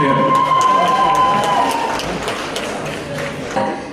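At the Miss Lviv 2013 beauty pageant, an audience claps and cheers from the hall as the departing contestants leave the stage, the noise easing gradually, with music and a voice underneath.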